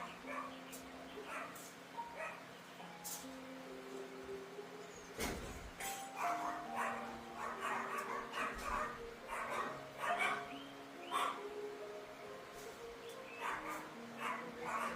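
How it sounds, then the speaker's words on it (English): Several dogs bark and yip in a house while technicians are present, the bursts scattered and fairly near, mixed with ongoing talk and kitchen sounds. "The dogs are barking at the technicians."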